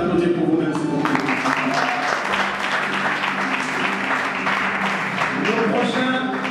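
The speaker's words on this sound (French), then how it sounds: "Merci d'applaudir pour vous-même, s'il vous plaît." An audience claps throughout at a live recorded event, a dense, steady roll of applause with voices mixed in.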